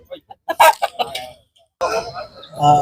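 Roosters at a busy Tuesday livestock market in Erode district, with a few short crowing and clucking calls rising near the start and again toward the end, mixed with nearby voices and market chatter.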